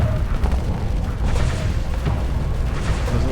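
In a space piracy video game, a missile blast lands as a heavy booming rumble, followed by rolling low-end thuds and crackling debris, dense and loud throughout.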